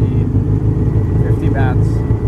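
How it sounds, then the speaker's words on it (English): A tuk-tuk engine rumbles steadily and loudly throughout a ride through Bangkok traffic, with faint voices and brief higher tones from the street above it. "I'm taking a tuk-tuk back to Chinatown"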